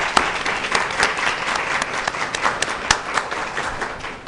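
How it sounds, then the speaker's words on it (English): Audience applause fills a hall at a school district's Literacy Day event, a steady dense patter of many hands clapping with a few sharper individual claps standing out, continuous throughout. "Please give them a hand of applause."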